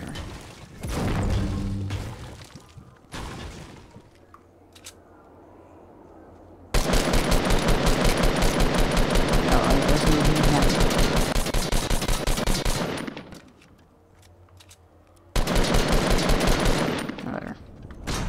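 In Fortnite, a semi-automatic weapon fires in fast bursts of evenly spaced, loud shots, with two long strings broken by short pauses and a few scattered shots earlier on. A voice speaks faintly between the volleys.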